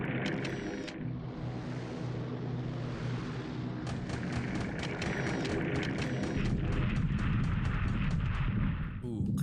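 Anti-aircraft flak bursting at Japanese Sonia bombers over a World War II battle game, with a steady rumbling roar under rapid thudding pops that grow denser and louder toward the end.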